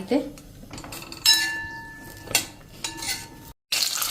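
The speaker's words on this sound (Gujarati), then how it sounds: "હવે એમાં આપણે આ મરચાં સાંતળી લેશું" Green chillies sautéing lightly in hot oil as a spatula stirs them in a pan, with sharp clinks and scrapes of metal against the pan over a faint, steady sizzle.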